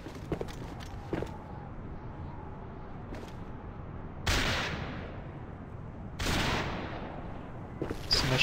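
Video game gunfire: a few sharp, close shots early on, then two heavy booming blasts that roll out and fade, with scattered clicks and taps in between.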